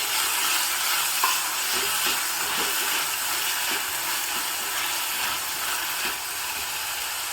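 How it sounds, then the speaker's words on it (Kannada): Green peas are sautéed with softened onions in a pan, giving a continuous even sizzle close by, with light periodic ticks of a spoon stirring through them. "ಇದನ್ನು ಚೆನ್ನಾಗಿ ಬಾಡಿಸ್ಕೋಬೇಕು"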